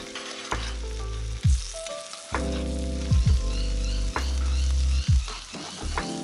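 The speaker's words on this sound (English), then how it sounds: "Now I'm going to finally do the last sear. Basting it with a bit of butter and thyme." Steak sears loudly on a Kamado grill while being basted with butter and thyme, a steady close sizzle broken by several sharp spattering bursts, with no talking.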